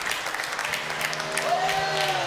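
A studio audience applauds and cheers at an arena racing event, a dense and steady wash of clapping that lasts throughout, with a voice talking over it.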